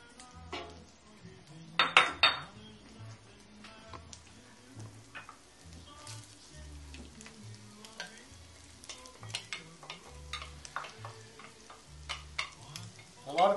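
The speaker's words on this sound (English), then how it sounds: "You just want to sweat these, cook them till they're translucent, 2 to 3 minutes over medium heat." Chopped onions sweat in a pan over medium heat, giving a soft steady sizzle with scattered clinks of a utensil against the pan and a few sharper knocks, close and continuous, with no talking.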